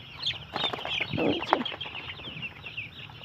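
Desi backyard chickens cluck continuously nearby, several birds overlapping in busy, scratchy calls with a sharper squawk in the middle.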